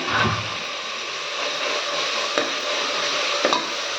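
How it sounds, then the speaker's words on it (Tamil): Tomatoes sautéing in a pan for beetroot biryani, a steady close sizzle with a few soft scrapes and taps of a stirring spoon against the pan. "தக்காளியும் நம்ம இதிலே போட்டு நல்லா வதக்கலாங்க"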